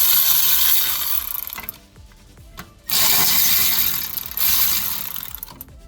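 A Milwaukee M12 cordless ratchet with a 40mm socket removes bolts on a 2012 Kia Soul wheel bearing assembly, giving loud mechanical whirring bursts broken by a short pause, close to the microphone.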